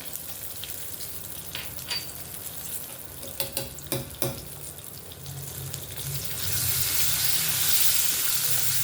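Hot oil tempering with asafoetida, curry leaves, chilli pieces and fenugreek seeds sizzling steadily in a pan, with a few sharp crackles and spoon taps midway, the hiss swelling louder and brighter toward the end.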